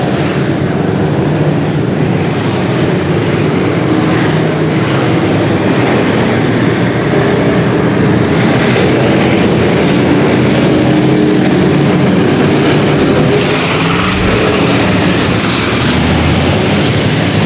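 Thunder Bomber race cars lap under caution at a state championship main event, a continuous loud roar of engines that swells briefly near the end, with no voices over it.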